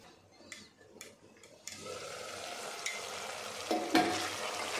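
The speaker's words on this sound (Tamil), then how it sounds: "இப்போ மேரினேட் பண்ணி வச்சுருந்த சிக்கனை இதோடு நல்லா கலந்து நல்லா வதக்கி விட்டுக்கலாம்" Marinated chicken stirred and sautéed in a pan: a few scraping knocks give way to a steady moderate sizzle, with occasional louder clinks of the spatula against the pan.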